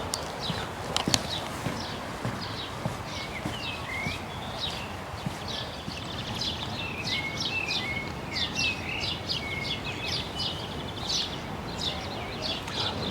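Many small birds chirp and twitter continuously at a moderate distance in a riverbank bird habitat by a bridge in Córdoba, over a steady outdoor hiss, with occasional clopping sounds.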